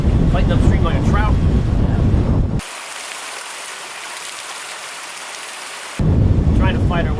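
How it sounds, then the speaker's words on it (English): Gusty wind buffets a sailboat on the Intracoastal Waterway, a loud rushing roar that fills the clip, with a few seconds of quieter hiss in the middle; voices are heard at the start and end. "Breezy day on the ICW."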